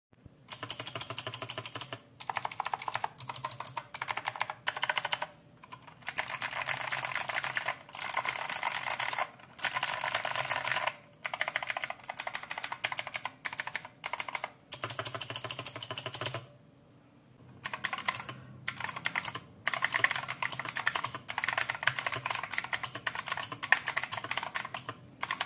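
Rapid, continuous typing on a Zifriend KA800 budget tenkeyless mechanical keyboard with clicky blue switches, close and crisp, with dense clacking bursts broken by a few short pauses.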